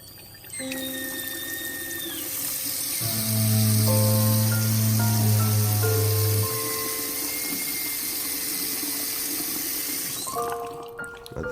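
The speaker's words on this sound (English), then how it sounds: "The sink in our room was experiencing some difficulty" A malfunctioning sink faucet in a hotel room bathroom runs with a steady hiss of water, joined by loud droning and whining tones from the plumbing that rise and shift before fading back to the rushing flow.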